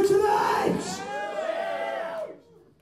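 A metal gig crowd in Nottingham roars, yelling and cheering together in one loud, close swell that fades out after about two seconds.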